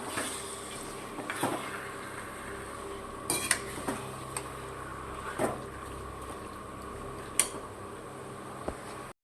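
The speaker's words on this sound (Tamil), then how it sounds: "இப்போ இது லேசாக கிளறி விட்டுக்கலாம்" A spoon scrapes and clinks against a metal pot of chicken curry in a few scattered knocks, over a steady low simmering hiss.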